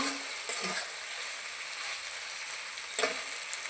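Previously fried potatoes are stir-fried again in a pan for a pointed gourd (potol) curry, with a soft continuous sizzle and a couple of brief stirring scrapes. A steady high whine runs underneath, and no one talks.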